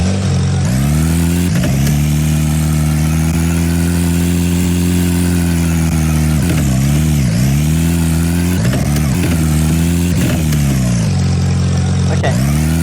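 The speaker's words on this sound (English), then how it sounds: "Right now I have the start engine, the engine idle and revving, and then the shifting sound" A car engine in a video game starts, idles and revs with a loud, close, continuous mechanical drone that rises and dips in pitch several times, with no voices over it.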